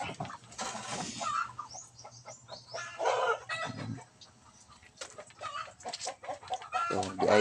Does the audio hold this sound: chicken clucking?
yes